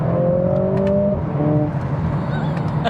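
A stock Mercedes A45S AMG in Sport Plus mode pulls hard under acceleration, its engine drone rising steadily in pitch, then easing as the gear changes, loud and continuous inside the cabin.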